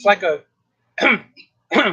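A person gives three short, close coughs separated by brief pauses.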